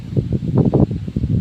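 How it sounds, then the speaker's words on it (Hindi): Wind gusting through roadside trees on an open rural road, a steady rustling whoosh with rising and falling surges, close to the microphone. "हवा एकदम पूरा चल रहा है"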